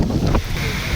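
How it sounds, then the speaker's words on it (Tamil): Strong wind and blowing rain spray buffet the microphone on a train journey toward Thenmala, a loud, rushing, turbulent noise lasting about a second. "நல்லா சாரல் அடிக்கி ப்ளஸ்ஸு வந்து காற்று நல்லா அடிக்கி."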